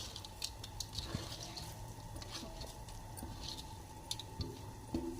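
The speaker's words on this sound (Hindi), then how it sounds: "तो हम इसी तरह सारे चावल इसमें डाल देंगे।" Washed rice for an aloo matar pulao is tipped into boiling water in a pot, giving faint wet patters, drips and soft splashes amid a low bubbling background.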